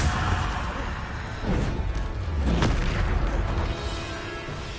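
Bombarda blasting spell explosions in a Harry Potter video game: a couple of booming, crashing blasts with sharp onsets and rumbling tails amid continuous battle noise, fairly loud and close.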